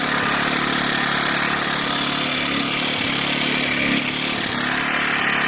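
A Generac 1200-watt portable inverter generator keeps running steadily as it is shut off, its engine droning with a few small clicks and uneven pulses, close and loud, no voices.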